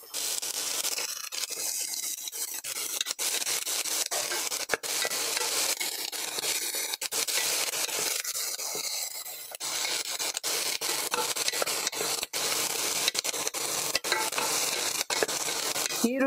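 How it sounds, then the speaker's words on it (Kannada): Sliced onions stirred in a pan for beetroot palya, a steady scraping and sizzling texture that runs nearly unbroken throughout, with occasional sharper knocks of the spoon against the pan and no talking. "ಈಗ ನಾನು ಈರುಳ್ಳಿ ಹಾಕ್ತಾ ಇದ್ದೀನಿ."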